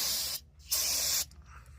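Brake parts cleaner sprays onto drum brakes and a wheel cylinder of a 2007 Ford Taurus in two close, loud hissing bursts separated by a short pause.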